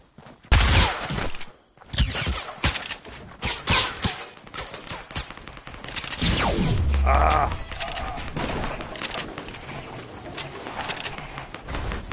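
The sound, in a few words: gunfire in a video game (Fortnite Cube event)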